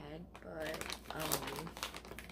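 A bag of soft Australian mango-flavoured licorice crinkles and rustles close up, its plastic crackling in a short burst under a person's voice.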